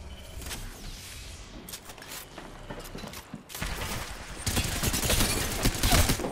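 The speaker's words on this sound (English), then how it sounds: "I'm taking shots." Gunfire hitting the player in a video game: bursts of sharp shots crackle in quick irregular volleys, growing louder and denser toward the end, with no talk over them.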